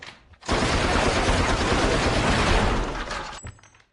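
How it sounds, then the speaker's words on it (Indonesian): Gatling gun firing in a Samurai X film scene, a dense, loud burst of rapid shots merging into a continuous roaring rattle for about three seconds before cutting off. "ia pun memakai peralatan modern yaitu Gatling Gun yang dapat melepaskan beberapa peluru dalam satu kali tembakan"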